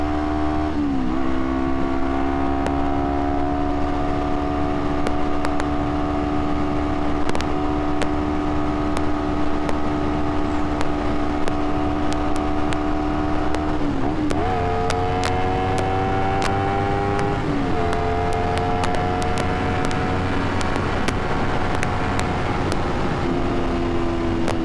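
A Nissan car engine hums at a steady, moderately loud pitch, then shifts and climbs twice in quick succession while racing, with faint clicks and rattles over the drone.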